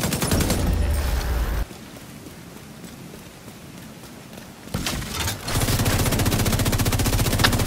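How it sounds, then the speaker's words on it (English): Rapid automatic gunfire in an online shooter game, bursts of loud close shots before and after a quieter stretch, with the firing aimed at the player. "who is shooting me?"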